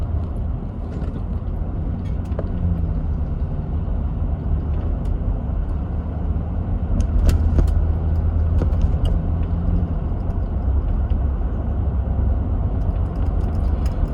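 Steady low road rumble inside a moving car, continuous and even throughout with a few faint clicks and a brief swell in the middle.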